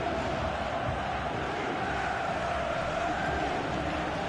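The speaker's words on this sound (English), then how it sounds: "Crowd settling back down here in the Santiago Bernabeu Stadium." Stadium crowd at the Santiago Bernabeu in the FIFA 18 video game, a steady, dense roar of many voices holding constant throughout without letup.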